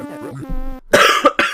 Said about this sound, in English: It seems like I'm developing a cough